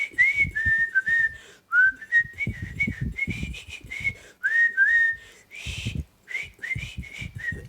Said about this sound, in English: So let's whistle.